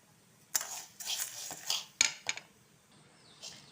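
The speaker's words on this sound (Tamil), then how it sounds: "நல்லா கிளறி விட்டுகிட்டே இருந்தால் நல்லா செவர வறுத்து வந்துடும்." Green gram is dry roasted in a metal pan, a spoon stirring with several sharp scraping clanks and rattles in irregular bursts, close and fairly quiet.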